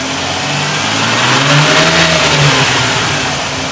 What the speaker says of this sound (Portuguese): Aumenta a rotação.